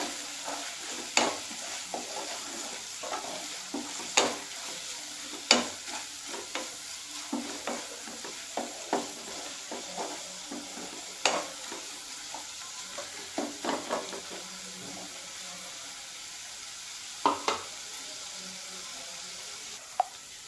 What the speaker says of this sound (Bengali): এবার আমি এটা ভালো করে আবার মেরে ভেজে নেবো